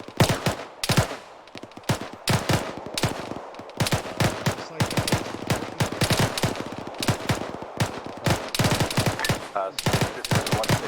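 Machine gun fire in ArmA 3 cracks out in loud, dense bursts of rapid shots, some near and some more distant, filling the stretch with irregular volleys and little speech.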